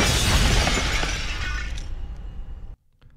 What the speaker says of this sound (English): it begins to break up and shatter into a bunch of little pieces